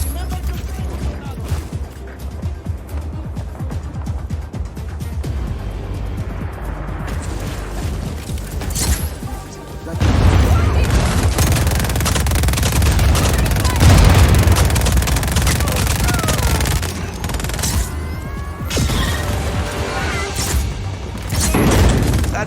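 Gunfire and explosions from destroying a cannon in Just Cause 4, with sustained loud booms, rattling automatic fire and mechanical clatter over game music, intensifying midway.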